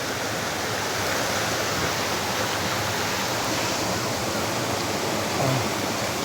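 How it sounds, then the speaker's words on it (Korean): A clear, cool stream rushes loudly and steadily nearby, a dense, continuous wash of water noise that holds at an even level throughout. "소리가 좀, 물소리가 시끄럽죠?"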